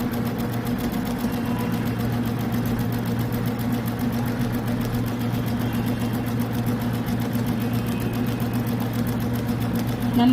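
An Ume embroidery machine in Chennai stitches a design with a steady, close mechanical hum and a rapid stitching rhythm that runs unchanged throughout.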